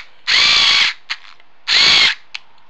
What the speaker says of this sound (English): Thank God for electric screwdrivers.